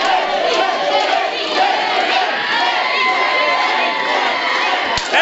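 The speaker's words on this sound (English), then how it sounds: "Teddy Goodz riling up the crowd here in Brockton, Mass" A wrestling crowd in Brockton, Massachusetts cheers and shouts loudly and continuously, with whoops and children's yells mixed into the roar as a wrestler riles them up before a tag match.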